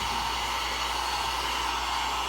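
A hair dryer blows steadily on airbrushed paint, a continuous close, loud whooshing hiss without a break.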